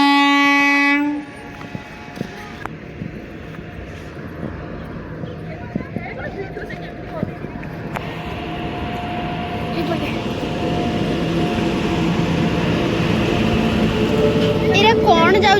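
A train passing by in rural Odisha at night, a horn blast at the start, then a long, steady rumble and rhythmic clatter of wagons that builds louder toward the end, with people talking over it.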